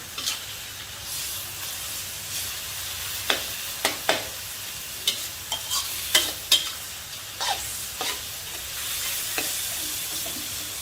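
Enoki mushrooms stir-fried with shrimp paste and minced pork over high heat sizzle steadily while a spatula knocks and scrapes the pan in a string of sharp irregular clicks, close and loud, with no voices.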